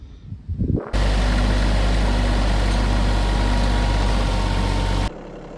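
Bobcat CT1025 compact tractor engine running at a steady, loud, low rumble for about four seconds, close by, starting abruptly and cutting off sharply, with no voices.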